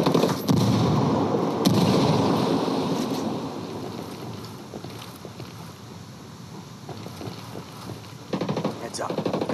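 A grenade blast amid gunfire in the Ghost Recon Wildlands video game: dense, loud bursts of explosion and shooting at the start, fading into a rumbling, crackling battle and flaring up again near the end, with voices talking throughout.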